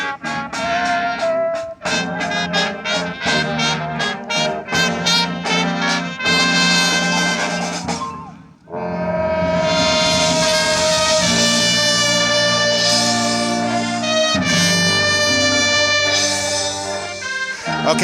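A trumpet section plays a bright, sustained passage with rhythmic stabs, a brief pause, then fuller held chords swelling together.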